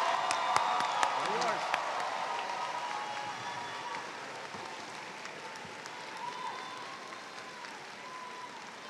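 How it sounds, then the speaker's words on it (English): Graduation ceremony audience applauding certificate, diploma and associate degree graduates; a few sharp claps up front give way to a steady, slowly fading patter of applause, with a voice briefly heard early on. "Let's have a round of applause for our certificate, diploma, and associate degree graduates."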